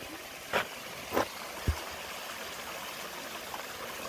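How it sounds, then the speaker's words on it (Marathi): A small waterfall near a hillside temple outside Nashik flows with a soft, steady rushing wash, broken by a few brief louder splashes and a low thump early on. "या ठिकाणी छोटासा धबधबा आहे, आपण या ठिकाणी बघू शकतो कसा वाहतो इथं"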